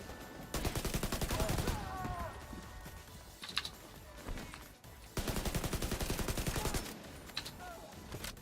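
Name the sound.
gunshots in a video game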